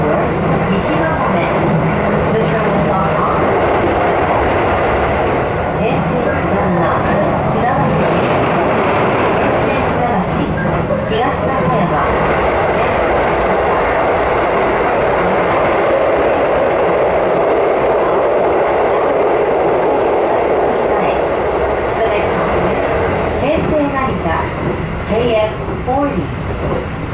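Keisei Line rapid train running, a steady loud rumble of the carriage heard from inside with rhythmic rail clatter throughout, while an onboard announcement plays over it.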